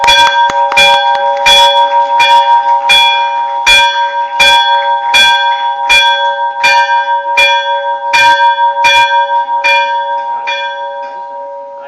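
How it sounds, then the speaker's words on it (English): A bell rings at a stock exchange IPO listing ceremony, with about fifteen loud, evenly spaced metallic strikes. Each strike leaves a bright ringing tone that fades gradually, heard clearly alone without talk. "Let the bell keep ringing."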